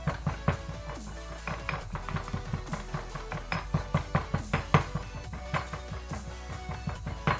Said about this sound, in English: this is crushing down into a nice paste now